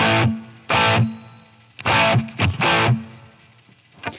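Distorted electric guitar chords run through a Line 6 Helix with a subtle Ganymede room reverb, four loud strummed stabs separated by gaps in which each chord's short tail fades.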